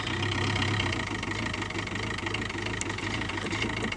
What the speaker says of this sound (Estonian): loodame, et auto läheb käima ilusasti